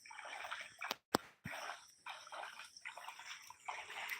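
Floodwater swirls and laps around village houses, a faint, continuous wash of moving water that rises and falls in soft surges, with a brief sharp knock partway through.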